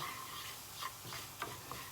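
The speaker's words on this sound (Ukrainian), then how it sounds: "в нас смажиться е, мука" Soft, steady sizzling of flour frying in a pan, with faint occasional scraping from stirring, quiet and close.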